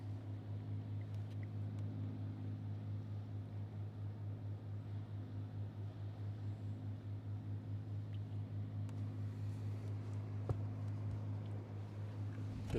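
A small motorboat hums past on the Westerschelde estuary in the Netherlands, a steady low drone that holds evenly throughout with faint water and wind noise around it.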